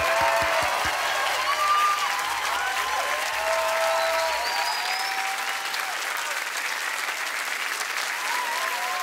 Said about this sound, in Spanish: El aplauso para mis vástagos.